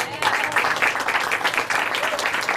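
Crowd applause at a live music show in a cafe in Lynchburg, sustained dense clapping throughout, fairly close and steady with slight swells.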